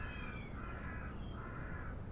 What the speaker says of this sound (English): I hear eagles and I hear birds.